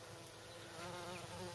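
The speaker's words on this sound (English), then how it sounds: "There's the bees working, look." Bees buzz steadily at night in a garden, a faint, continuous drone of insects close by with no other sounds.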